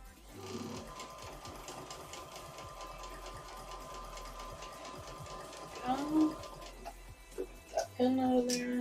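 Sewing machine stitching seams of a cotton quilt top, a steady rapid mechanical whir with ticking needle strokes running continuously and close, with brief shifts and clatter near the end.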